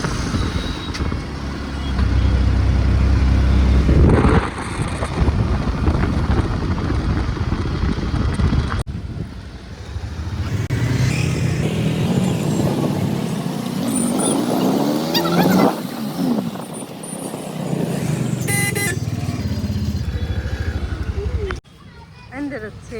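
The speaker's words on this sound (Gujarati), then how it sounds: "અમદાવાદમાં તો ટ્રાફિક હોય જ" City road traffic in Ahmedabad rumbles past with motorcycles and vehicle engines, close and loud, broken by brief horn toots and shifting passes, while someone talks over the din.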